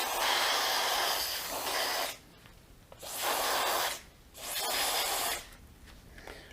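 A can of GT85 or WD-40 lubricant is sprayed into a drill motor in three hissing bursts, each lasting a second or two, with short quiet gaps between them. The spray is close and sharp.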